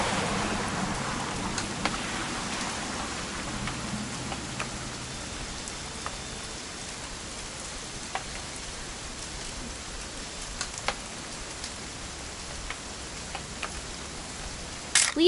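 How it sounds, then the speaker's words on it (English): Steady rain falls in the video game What Remains of Edith Finch, a soft continuous wash of drops with a few sharper ticks, alone without talk throughout. "It's gonna rain the whole weekend,"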